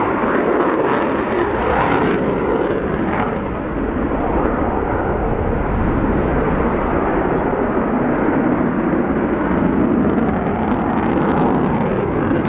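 A Ukrainian Air Force Sukhoi Su-27P jet fighter displays at an air show with its large dorsal air brake extended, a loud, continuous roaring engine rush with some crackle lasting throughout.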